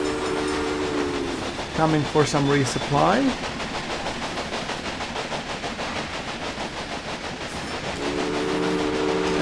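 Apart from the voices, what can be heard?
passing trains in the video game Railway Empire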